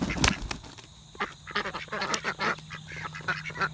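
Several ducks quacking nearby while being fed outdoors, a lively burst of overlapping raspy quacks and honks after a short loud thump.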